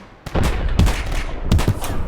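Loud, close gunfire in the video game Poly Field: rapid, dense bursts of shots that start abruptly and keep firing with a few heavier reports.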